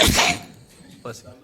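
A close, loud sneeze bursts into the microphone at the start of a public hearing, followed by quieter room noise and a short vocal sound.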